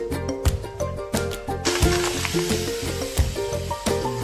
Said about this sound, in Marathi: आता आपण टाकू त्याच्यामध्ये आपले खेकडे.